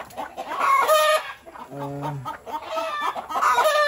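Several chickens cluck and chatter nearby, with one longer drawn-out call in the middle of the steady flock noise.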